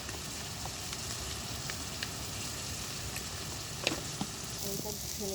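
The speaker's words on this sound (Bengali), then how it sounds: "মশলাটা দিয়ে তেল ছেড়ে দিয়েছে" Spices hiss and sizzle in hot oil for a mutton curry, a steady loud frying crackle with occasional stirring clinks.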